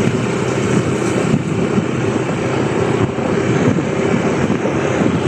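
A Honda motorcycle engine runs with a steady, loud, continuous drone, close by and without talk over it.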